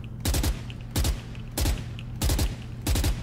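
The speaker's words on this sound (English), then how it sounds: "So you can tap or bursting is the optimal way to shoot in this game." Five evenly spaced bursts of rapid gunfire from a gun in the video game Valorant, each burst a short, loud rattle of a few shots with quiet gaps between.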